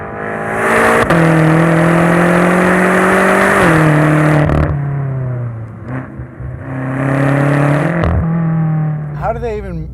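A 2014 BMW M5 Competition engine pulls hard and loud through its dual-clutch transmission, the rising tone dropping sharply at quick gear changes, heard from inside the car with people talking over it.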